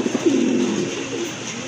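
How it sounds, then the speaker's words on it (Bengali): Lahori pigeons coo in a steady low murmur, with a male bird nearby, the soft throaty calls running continuously and fairly loud for under two seconds with no talking. "আর এটা হচ্ছে আপনার নর কবুতর"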